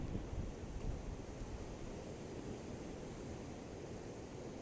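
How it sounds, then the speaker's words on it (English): Steady broadband wash of sea water and surf rolling in, continuous and even with no distinct breaks, like waves heard from close by with some wind mixed in. "Now as this water pours in"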